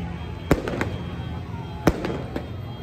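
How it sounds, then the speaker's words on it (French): Fireworks bursting in a celebration on the Lebanese side of the Syria border, two sharp loud bangs with a few fainter cracks between them over a steady crowd-noise bed. "Feux d'artifice,"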